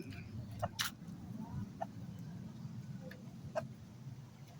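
Soft, scattered clucks from laying hens kept with ducks at a modest distance, a few sharp short calls over a low background murmur.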